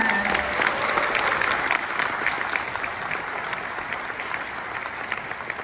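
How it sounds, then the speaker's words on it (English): An audience at the Jfokus 2024 developer conference applauds for Sam Aaron, a steady, dense wash of clapping filling the hall from start to finish, easing slightly toward the end. "another round of applause for Sam Aaron"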